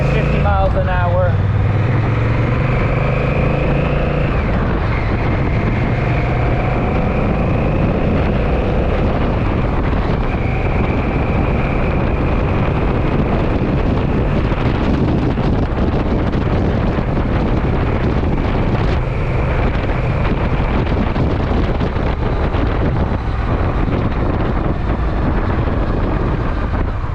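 Honda cruiser motorcycle coasting in neutral at about 45 to 50 miles an hour, a steady roar of wind buffeting and road rumble with a low engine hum underneath, loud and continuous throughout.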